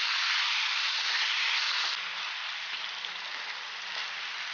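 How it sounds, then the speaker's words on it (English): Potatoes frying in a pan give a steady, loud sizzle, bright and continuous, which drops slightly after a couple of seconds and then carries on with faint scraping stirs beneath. "Give it a nice stir."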